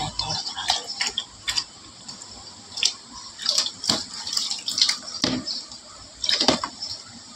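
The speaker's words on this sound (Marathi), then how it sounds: "बारीक अभी अभी आ रहा है, थोड़ा थोड़ा आ रहा है, थोड़ा थोड़ा." Water trickles slowly into a tub inside a flooded house, making small, irregular drips and ticks that sound close and fairly faint, with no speech.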